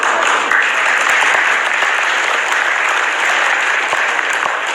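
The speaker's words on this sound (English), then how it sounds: "Getting a little noise from the crowd here in attendance." A crowd at a jiu-jitsu match applauds and cheers steadily throughout, a dense, continuous wash of clapping filling the venue.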